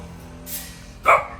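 A dog gives one short, fairly loud bark near the end of the moment, close by, after a brief rustle in an otherwise quiet outdoor setting.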